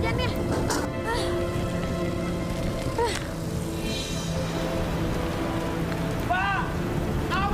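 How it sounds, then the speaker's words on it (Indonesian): Heavy rain pours steadily and loudly throughout, a dense continuous hiss of falling water, with voices talking over it. "Deras banget lagi hujannya."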